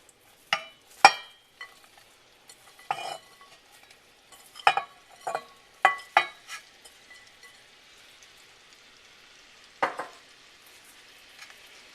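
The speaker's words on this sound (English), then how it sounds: "our butter's all melted, and now I'm going to add my onions" Onions going into melted butter in a pot, heard as a series of sharp clatters and stirring scrapes spaced irregularly, with a faint sizzle rising underneath between them; no talk.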